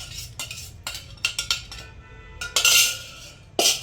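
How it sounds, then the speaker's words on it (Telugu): Mango pickle pieces being stirred with seasoning in a bowl, a spoon clinking and scraping against the dish in a series of close, bright knocks with a longer rattling scrape near the end. "ఇప్పుడు పచ్చళ్ళు వేసి కలిపేద్దాం"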